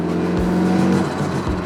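A $500 car's engine revs up close while warming up, a loud throaty roar that climbs and swells between throttle blips.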